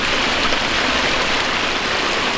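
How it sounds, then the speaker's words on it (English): A green-tinted freshwater stream pours over a waterfall in a continuous, dense, loud rushing wash with no pauses, heard close with no voices. "Green waterfall."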